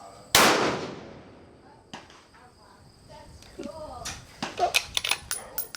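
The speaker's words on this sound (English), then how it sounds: "Gently squeeze that trigger real back." A single sharp Tikka T3x TAC A1 rifle shot cracks out near the start and decays quickly, followed by quiet ambience, a faint click and a run of small clinks and rustles toward the end.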